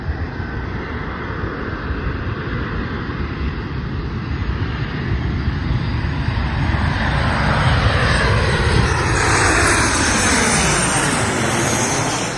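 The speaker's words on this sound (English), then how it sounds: "United Airlines, arriving in from EWR, Newark Liberty International Airport" A United Airlines airliner arriving from Newark lands at O'Hare with a loud, close, continuous jet roar that builds and broadens as it passes overhead.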